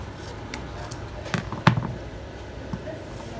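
Scissors cutting through folded fabric for a circle face mask, a couple of soft close snips over a low room background.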